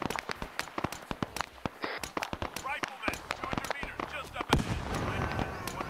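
A grenade blast in the Vietnam War game SOG amid a dense firefight: repeated sharp gunshot cracks and bangs, a heavier explosion near the end, with players talking over the combat.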